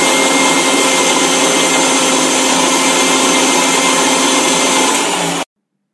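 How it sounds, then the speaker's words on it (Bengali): A kitchen blender runs steadily, mixing ginger and other ingredients with a glass of water for a morning detox drink; a loud, continuous whirring motor drone with no talk, cutting off abruptly near the end. "এবার এই সমস্ত উপকরণ একসাথে ভালোভাবে 1 গ্লাস পরিমাণ পানি দিয়ে আমরা ব্লেন্ড করে নেব।"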